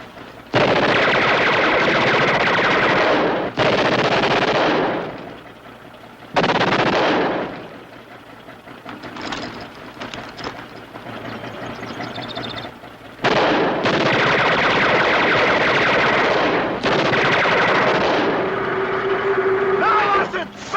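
Bursts of machine gun fire crack in a wartime battle, long loud rattling volleys separated by quieter stretches of shouting and ambient noise.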